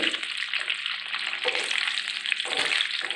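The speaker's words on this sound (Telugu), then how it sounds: "లో ఫ్లేమ్లో పెట్టుకొని మనము వేయించుకుంటే సరిపోతుంది" Green chillies fry in oil on a low flame, a close continuous sizzle with crackling bursts and intermittent stirring sounds.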